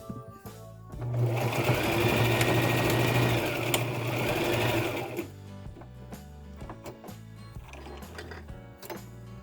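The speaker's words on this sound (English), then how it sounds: "you have to sew it until here and then go back again, like a couple of inch" A sewing machine stitches fabric for a homemade face mask in a steady, loud whir for about four seconds, then stops, followed by quieter handling clicks and shuffling.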